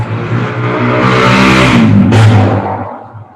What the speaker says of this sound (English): Did you guys hear that loud motorcycle?